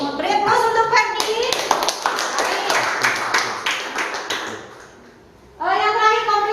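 Classroom applause for a student named Ferdi, a burst of many hands clapping for about three seconds between stretches of someone speaking nearby.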